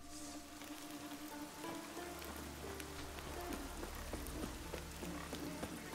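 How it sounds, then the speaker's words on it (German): Rain falls in The Witcher 3, a soft, steady patter of drops on surfaces with a low ambient bed, faint and continuous, along with a few scattered clops. "So, der Regen hört langsam auf"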